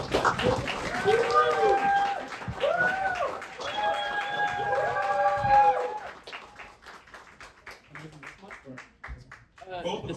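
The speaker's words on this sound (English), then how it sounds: "let's give Kirten a round of applause" An audience at a New York science talk on supplements starts clapping after a spoken introduction, with scattered handclaps building near the microphone once the talking stops.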